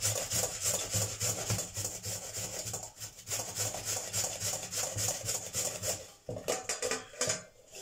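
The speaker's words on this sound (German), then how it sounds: "Und über die grobe Sechskant bzw. Vierkantreibe reiben." Half a head of white cabbage is rubbed over a coarse hexagonal or four-sided box grater, giving loud, continuous rhythmic rasping strokes close up, with a brief pause near the end.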